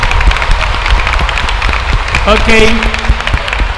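A packed crowd at Don Bosco Shrine, Ayanavaram, keeps up steady, fairly loud clapping throughout, while someone briefly speaks over it near the middle.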